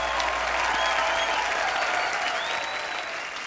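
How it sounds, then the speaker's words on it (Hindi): Steady, dense applause from a TV comedy show studio audience, continuous and fairly loud throughout, with no voices standing out. "सुखविंदर पाजी के लिए जोरदार तालियां।"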